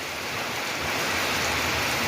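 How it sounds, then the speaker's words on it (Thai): Heavy rain falling during flooding, a loud, dense, continuous roar of water with no breaks. "ฝนฝนฝนฝนตกไม่รู้จะตกทำไมน้ำก็ท่วมไปละ"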